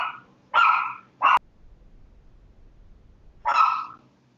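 A dog barks three times in close range, two quick barks in succession followed by a pause and a final bark, each sharp and loud against a quiet room.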